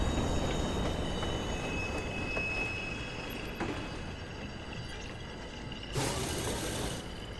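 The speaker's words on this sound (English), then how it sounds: "Northbound train arriving shortly." Train pulling into a station in the Watch Dogs game, a steady rumbling rail noise with metallic clanks and a sharp burst of hiss near the end, no voices.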